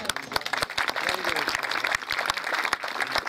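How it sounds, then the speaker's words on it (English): An audience at a public event in Uganda claps, uneven scattered hand claps that come through sharply, fairly faint overall, with voices mixed in. "Let us clap for ourselves."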